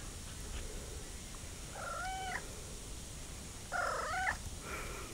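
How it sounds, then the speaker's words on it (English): Pet cats give two distinct drawn-out meows a couple of seconds apart, fairly faint over a soft hissy background with a hint of purring and no talking. "I'll show you all three of the cats."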